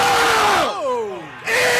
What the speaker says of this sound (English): Lead the crowd in an Eagles chant, Billy.